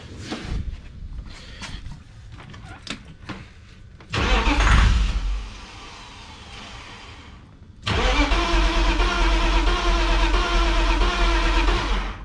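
A BMW E36 318ti sedan engine cranks in two loud, sustained attempts, the starter churning for several seconds each time with quieter clicks and rattles between, no talk.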